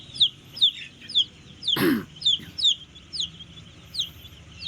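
Chicks of Darag and native Filipino chicken breeds, a few weeks old, peep in a steady run of high, chirpy calls at a close distance, with one brief louder squawk in the middle and no talking.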